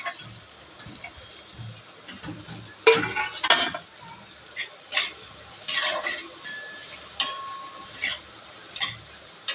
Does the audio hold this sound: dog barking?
no